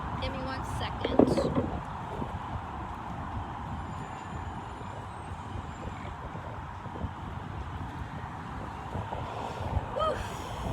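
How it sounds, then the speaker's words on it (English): Steady outdoor wind rumbles and buffets the microphone throughout, a broad continuous roar with brief gusty swells near the start and end, loud and close. "It's getting windy."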